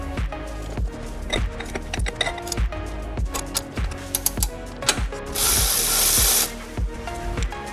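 Ratchet wrench loosening a brake caliper bolt on a Mercedes CLS55 AMG, a close, steady run of rapid clicking pawl strokes, followed near the end by a short hiss of spray.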